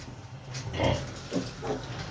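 Piglets squeal and grunt during castration on a farm, giving two or three short strained cries close by that rise over a low background hum.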